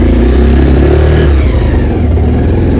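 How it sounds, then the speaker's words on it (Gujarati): A motorcycle engine runs close by with a steady, loud low rumble and slight revving throughout, with no talking over it. "ફાઇનલ બાઈક ચાલુ થઈ ગયું"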